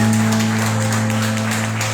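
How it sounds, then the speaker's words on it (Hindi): A church congregation claps to welcome a newcomer at a service. The rhythmic, fairly close clapping sits over a steady droning hum. "उनको हम लोग तालियों के साथ में स्वागत"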